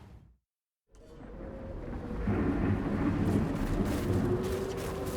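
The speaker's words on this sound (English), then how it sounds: "Look at the size of that storm. It's coming fast." Thunderstorm in an Outriders cutscene: a short silence gives way to a rising rumble of thunder and steady heavy rain that builds and holds, loud and close.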